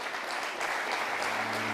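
Audience applause at a European regulatory round table as an EU commissioner is called to the stage: dense, steady clapping from a crowd, moderately loud and continuous throughout.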